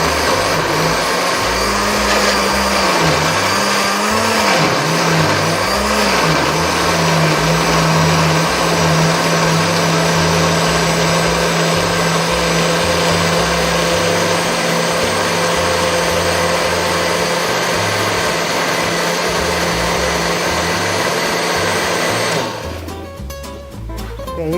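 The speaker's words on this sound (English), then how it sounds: "And we're at that stage of blending." A kitchen blender whirs steadily at high speed, blending potatoes and chicken with water in a live cooking segment. The motor runs loud and continuous, then cuts off near the end.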